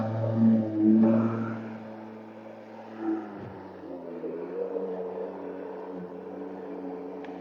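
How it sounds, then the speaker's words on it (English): A lawn mower engine churns through a thick patch of grass, its steady hum bending upward as the revs climb, close and moderately loud with brief louder surges early on. "So the mower's RPM automatically will adjust."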